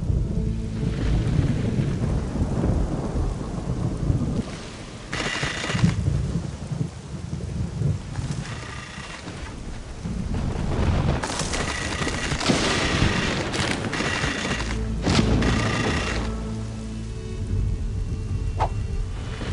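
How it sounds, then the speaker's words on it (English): A thunderstorm in the god game Black and White: rolling thunder crashes in repeated loud bursts over steady, heavy rain hissing throughout, with no talking. "shelter the people from this terrible storm."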